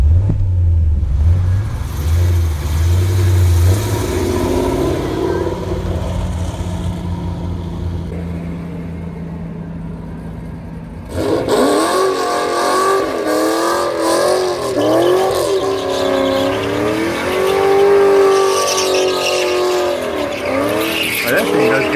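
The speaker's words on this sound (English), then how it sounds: "That thing does good donuts, man." Car doing a burnout and donuts, engine revving hard with squealing tires and skidding, loud and sustained, following a quieter stretch with someone talking over background sound.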